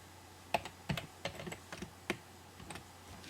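A password being typed on a computer keyboard: a short, irregular run of crisp key clicks, fairly quiet and close, with no talking.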